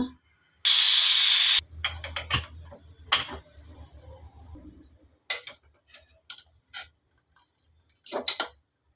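A pressure cooker holding horse gram, tomato and salt releases a loud, close burst of hissing steam for about a second. Scattered clicks, taps and kitchen clatter follow.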